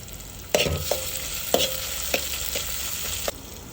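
Potatoes sautéing in a pan with ginger, garlic and chili paste, a steady low sizzle broken by several sharp scraping stirs and clacks of a spoon against the pan, close and alone.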